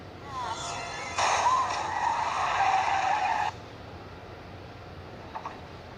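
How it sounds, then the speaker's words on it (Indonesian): Car chase in the horror film Jeepers Creepers, one car ramming and sideswiping another: a loud, sustained screech of skidding tires lasts a couple of seconds over engine noise, then cuts back to a low rumble with a few faint knocks. "Dia mencoba menabrak dan menyerempet mobil yang dikendarai oleh Derry."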